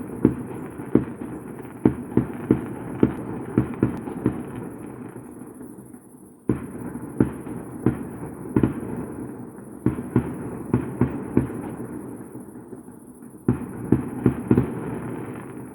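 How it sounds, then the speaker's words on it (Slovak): Firecrackers crack off in sharp, loud bursts, some isolated and some in rapid clusters, with brief lulls between volleys over a constant background rumble. "Toto sú tie petardy."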